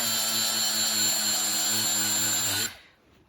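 A power tool with a cleaning wheel works on LS engine cylinder heads, a steady loud high-speed whir close by that holds for over two seconds, then cuts off and fades quickly.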